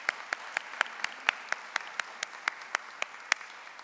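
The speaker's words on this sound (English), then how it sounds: "Please join me, though she is not here to receive the award, in a round of applause for Dr. Finkel" Sparse, fairly quiet applause at a university campus address for an absent award winner: a few hands clapping in a steady, distinct rhythm, each clap sharp and separate, over a faint room hush.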